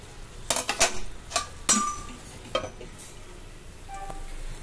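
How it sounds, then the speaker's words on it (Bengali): Metal clinks and scrapes as a lid is set over a pot of boiling rice, a few sharp close taps and rattles followed by a faint bubbling simmer underneath. "এখন একটু ফুটছে, তো এই অবস্থায় আমি একটু চাপা দিয়ে দেবো।"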